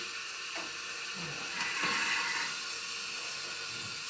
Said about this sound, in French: les hélices vont s'arrêter pour vraiment entendre le crépitement